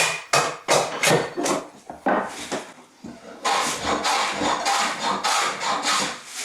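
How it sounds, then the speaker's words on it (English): An axe splits wood pieces to width for a small wall cupboard, giving a run of sharp, close chopping strikes and thuds, first separate blows and then a denser, steady stretch of splitting and rubbing wood. "I'll use my usual approach and split these to width with an axe"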